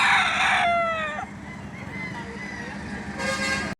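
A rooster crows loudly and close by at a busy poultry market in Lipa City, Batangas. A second crow follows near the end, and there is background chatter, clucking and traffic noise.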